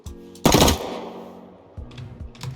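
A quick burst of gunfire rings out from high velocity pistol ammunition in the Rust video game, one loud rapid volley followed by a fainter shot or two and trailing reverb.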